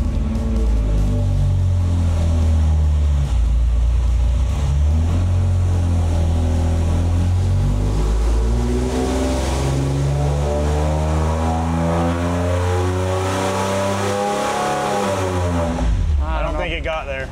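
A Ford 300 inline six on an engine dyno, loud and close, revs in a long sustained pull whose pitch climbs and wavers, then drops off abruptly near the end.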